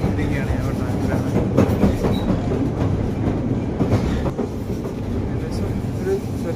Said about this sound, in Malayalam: നമ്മൾ ട്രാം വന്നിരിക്കുകയാണ്. ഞങ്ങൾ ട്രാമിലാണ്.